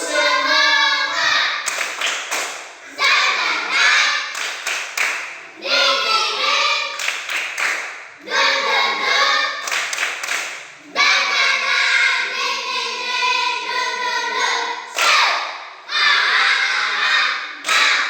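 Schoolchildren in an Indonesian classroom clap out a rhythmic group clap chant, bursts of sharp claps alternating with loud sung, chanted voices in repeating phrases, all close and energetic.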